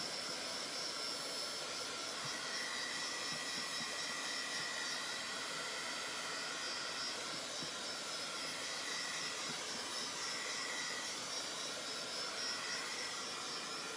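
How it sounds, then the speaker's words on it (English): A steady, loud rushing blast of hot air from an embossing heat gun, running continuously without pause from start to finish. "This is an embossing gun, which puts out heat"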